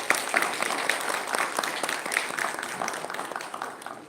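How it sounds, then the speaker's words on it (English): Warm applause from a university audience welcoming a guest speaker, a company co-founder and CEO; dense, even clapping fills the room for a few seconds with some individual claps standing out. "Please give him a big round of applause."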